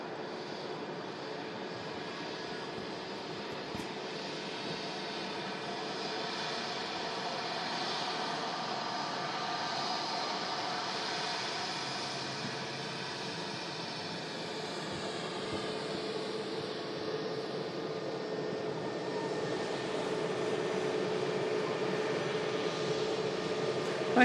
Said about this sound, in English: Proper rumble there from the Virgin A350.